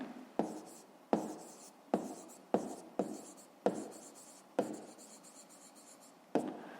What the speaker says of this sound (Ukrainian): Записуємо в дужках чого? Години.